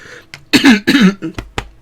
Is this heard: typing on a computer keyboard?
no